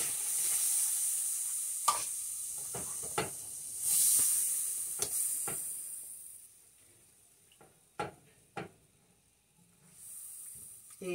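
Milk is stirred into a fish and shrimp filling in a pan, giving a soft hiss and sizzle punctuated by sharp spoon knocks and scrapes, growing quieter toward the end.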